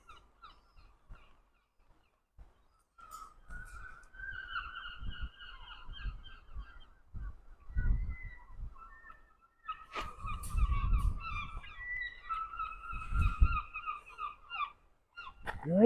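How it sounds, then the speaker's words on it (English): Geese honking in noisy bursts, several birds calling over one another with quiet gaps between, fairly close, with faint rustling underneath. "Noisy, noisy birds."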